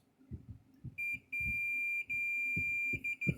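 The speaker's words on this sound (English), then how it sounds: "Turn to speaker so it beeps." A steady high-pitched electronic beep from a multimeter continuity test on a Gallagher load bar scale's wiring sounds in several held stretches, broken by short gaps, over soft tapping and handling clicks.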